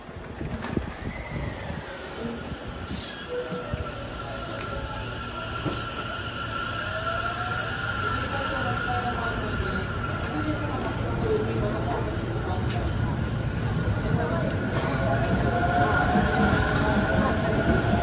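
A train slows as it arrives at Kobuchizawa station, rolling along with a steady low rumble and rising mechanical hum, a high tonal whine above it, and voices murmuring in the background.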